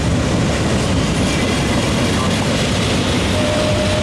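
Loud, steady rumble of a Norfolk Southern freight train passing close by, a dense continuous roar of wheels and cars with no gaps.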